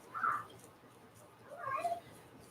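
Two meows from a cat waiting to be fed, fairly faint indoors, one short call near the start and a longer one after a pause.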